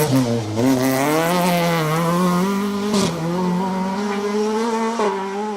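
A rally car on a Manx Rally special stage holds a loud, steady engine note that climbs slowly, with brief tyre squeal and skid bursts over it and no talk.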